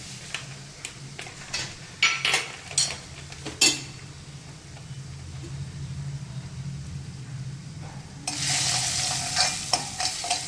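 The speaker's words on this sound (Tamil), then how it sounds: "நல்லா செவக்க வறுக்கணும் நெய்யில் நல்லா ப்ரௌன் கலர் ஆகணும்" Semolina (rava) roasting in plenty of ghee for Chettinad ukkarai, stirred in a pan: a steady low sizzle with sharp scraping strokes in the first few seconds, then a louder hiss of frying near the end. No one speaks.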